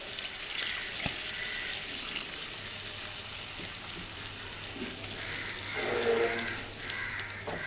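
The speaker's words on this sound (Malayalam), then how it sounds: "ഇനി ഗ്രേവിക്ക് ആവശ്യമുള്ള വെള്ളവും ചേർക്കാം." Water poured from a tap into a drumstick leaf curry being cooked, a steady splashing hiss that swells louder near the end.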